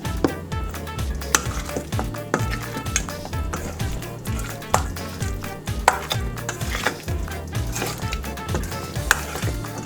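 Chicken wings being stirred in honey garlic sauce during a cooking competition, with wet sticky scraping and clinks from the pan, while steady rhythmic music plays underneath.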